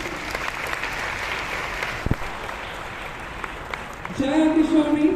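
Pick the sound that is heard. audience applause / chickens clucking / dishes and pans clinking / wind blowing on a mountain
audience applause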